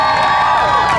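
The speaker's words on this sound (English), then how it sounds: "Now they're clapping for it." Audience at a stunt dog show breaks into steady clapping mixed with cheers and children's shouts, a dense, loud crowd swell lasting about a second.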